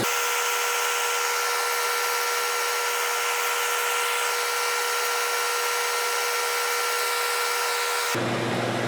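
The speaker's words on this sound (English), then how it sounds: "Sanding with, I think this is 320 to start with." A steady, high-pitched whine of a power sander with 320-grit sandpaper runs continuously, loud and unbroken, then cuts off abruptly near the end.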